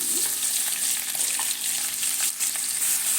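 Two onions dropped into hot oil in a pan for white pulao, giving a continuous close frying hiss that holds steady with small crackles throughout.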